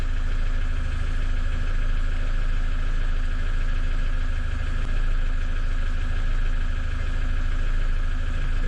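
An armoured truck's engine idles steadily throughout, a continuous low rumble with a constant mechanical drone and faint vibration. Nothing else breaks the sound.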